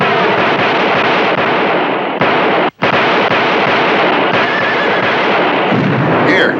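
Gunfire in a western shootout: a dense run of loud, sharp shots and bursts, one after another, broken only by a brief silent gap partway through.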